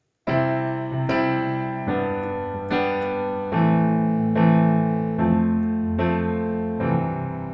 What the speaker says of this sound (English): It's a really popular pop chord progression